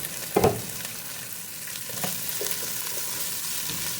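Onions sautéing in a pan for a creamy coconut skipjack tuna dish, a steady soft sizzle with a brief louder clatter of stirring near the start and lighter scrapes later.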